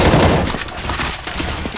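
Rapid gunfire from a CS:GO Zombie Escape round on the ze_Bathroom map, dense overlapping bursts of automatic weapons firing continuously and loudly throughout, with no talk.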